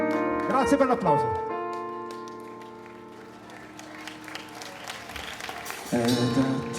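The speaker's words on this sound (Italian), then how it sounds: "Grazie per l'applauso" Concert crowd at an outdoor pop show in Jesolo claps between songs, a moderate wash of applause partly under sustained music and a singer's voice, swelling again near the end.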